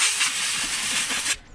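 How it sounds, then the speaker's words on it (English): A can of compressed air blasts a steady, loud hiss close by while cleaning brake parts during a brake pad change, then cuts off abruptly. "Get yourself some cans of compressed air."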